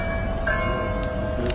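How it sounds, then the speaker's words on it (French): An automated bell rings with sustained, steady tones that hang over a constant rumbling background. "Vous entendez cette cloche, c'est une cloche par rapport à la bonne nouvelle que je viens de recevoir."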